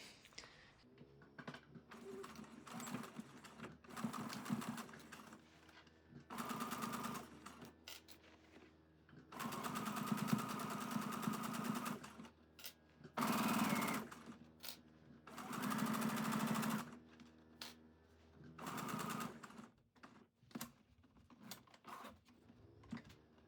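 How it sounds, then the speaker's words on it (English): A sewing machine with a zipper foot stitches in repeated bursts of fast whirring, starting and stopping several times with short quiet gaps between runs. "I'm going to use the zipper foot on my sewing machine."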